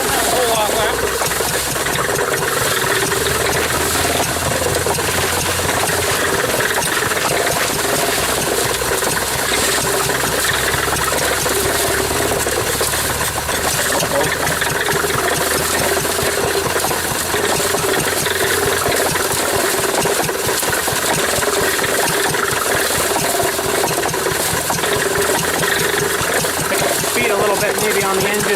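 A 1940s Wolseley engine drives an old cement mixer through a flat belt, a steady loud mechanical chugging and clattering that runs without a break.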